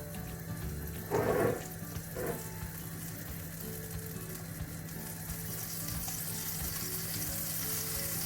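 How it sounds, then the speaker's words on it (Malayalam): Butter melts in a hot pan on a gas stove with a low, steady sizzle. Two brief louder bursts of crackle come early, then a continuous soft hiss. "നമുക്കിനി 1 ടീസ്പൂണ് ബട്ടർ ഇട്ട് കൊടുക്കാവുന്നതാണ്. അതൊന്ന് മെൽറ്റ് ആവട്ടെ."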